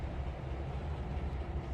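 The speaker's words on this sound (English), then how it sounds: "if you can't see the train backing up while it's sitting right there" A train reversing in the Trainz 2022 railway simulator, heard as a steady low rumble with faint rail clatter, continuous and fairly quiet throughout.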